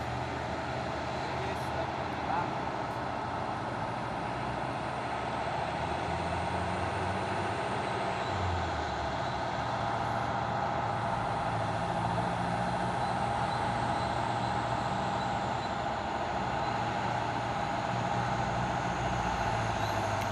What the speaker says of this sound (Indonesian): Ada 1 unit truk box Fuso.